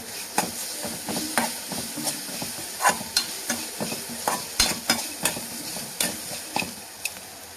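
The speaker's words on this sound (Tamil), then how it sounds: "இந்த டைமில் நம்ம அரிசி மாவையும் சேர்த்து என்ன பண்ணலாம், அப்படி வறுத்து எடுத்துடலாம்" Rice flour and grated coconut are stirred and dry-roasted in a pan for sweet kozhukattai. A spatula scrapes and taps the pan in a steady, repeated rhythm over a soft sizzle, close and moderately loud.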